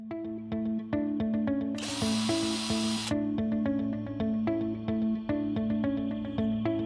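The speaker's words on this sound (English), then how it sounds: "Tighten the screws using a power drill with a Phillips head driver bit." A steady, loud tonal power-drill whine pulses in short regular bursts while driving screws with a Phillips bit into a cabinet, with a brief hissing spray-like burst partway through, close up and continuous.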